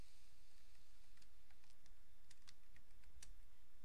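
Faint, sparse keystrokes tap on a computer keyboard as link text is typed into a Google Doc, the light clicks spaced irregularly over a quiet background.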